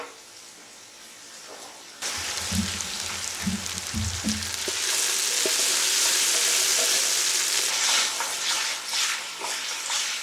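Chopped vegetables for a minestrone soup hit a hot pan, a few knocks and stirs followed by a steady, loud sizzle that continues as they are moved around, with no one speaking.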